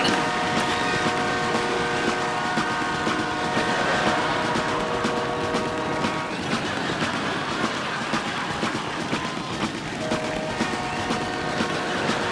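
Performers recreate a passing train on stage at a comedy show, producing a steady, dense rumbling clatter that carries on throughout at a moderate level, with faint tonal sounds mixed in and no clear speech.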